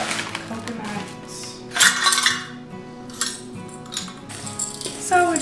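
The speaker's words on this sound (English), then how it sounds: "So we're just gonna mix this up" A spoon clinks and scrapes against a bowl while coconut snack mixture is stirred, in a few bright bursts over a steady soft tonal background.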